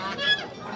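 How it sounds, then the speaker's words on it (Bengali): A goose gives a short, nasal honk amid the bustle of a century-old village market where geese and ducks are sold, heard close but fairly quiet in a single brief burst. "এখানে রাজহাঁস আছে, চীনা হাঁস আছে"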